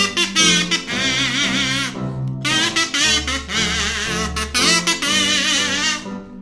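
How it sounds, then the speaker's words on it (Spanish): Kazoo playing a melody, a buzzy, nasal sung tone moving through a lively tune in phrased bursts with brief gaps, loud and close, with no talking. "Tocado con el kazoo suena así."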